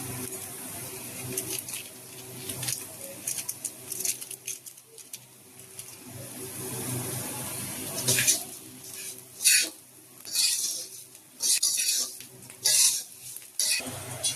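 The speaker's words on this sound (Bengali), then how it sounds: "এবার এগুলোকে একটু ভালো করে ভাজবো, মশলাগুলো যাতে চাল ডালের সাথে খুব ভালোভাবে মিশে যায়" Rice, lentils and spices fry in a pot with a steady sizzle while a spoon stirs and scrapes, the scraping bursts growing louder and more frequent in the second half, close and clear with no talk.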